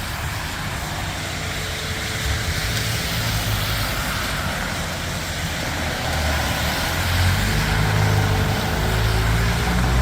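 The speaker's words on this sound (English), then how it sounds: "Pumper and ladder going out." Fire engines, pumper 210 and ladder 410, pull out of Station 10 on a full response, a loud continuous engine rumble that builds toward the end with a broad roar of traffic noise.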